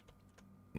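A few light, quick keystrokes on a computer keyboard, faint and close, with a sharper pair of clicks at the end.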